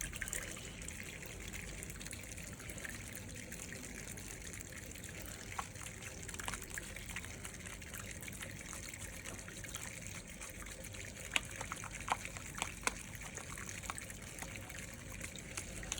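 A tap runs steadily during a surgical handwash, a constant broadband rush of water with small splashes and hand movements throughout, fairly close and alone.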